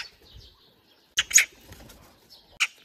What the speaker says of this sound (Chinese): 这傻喜鹊又过来了